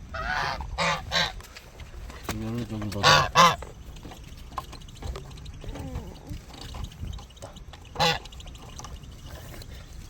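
Geese honk loudly and repeatedly while visitors feed them at a folk village, with sharp nasal calls in bursts close by. Several people, including children, chatter throughout.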